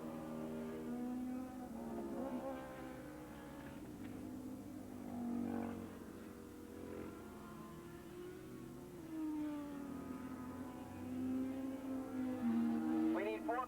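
Racing motorcycles, including Suzukis, in a 1987 ARRA Formula 2 race at Willow Springs International Raceway. Engines whine and rise and fall in pitch as bikes pass one after another, with a public-address announcer talking over them throughout.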